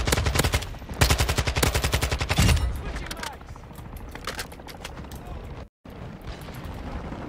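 Automatic gunfire in the Call of Duty: Modern Warfare II multiplayer video game crackles in fast, loud bursts for a couple of seconds, then thins to scattered shots while a player talks over it.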